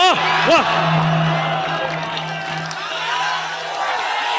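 A crowd at a coaching-class event cheers for the guest Subhash, with whoops and shouts rising at the start over a steady murmur of voices and light clapping.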